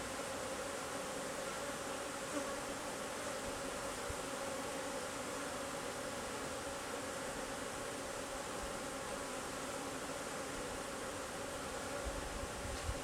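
Honey bees swarm around an open hive in a dense, continuous buzzing drone, close and steady throughout with no voices.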